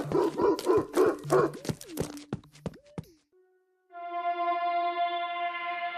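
A dog barks and snarls as it attacks, biting a fleeing figure's leg, in a quick burst of sharp yelps, then falls silent before a sustained tonal hum swells in.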